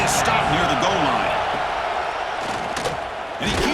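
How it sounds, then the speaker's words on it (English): Crowd noise roaring at a college football game as fans try to help the defense get a stop near the goal line, a sustained loud wash of voices with a commentator talking over it. "The crowd really making some noise now, trying to help out this defense to get this stop near the goal line."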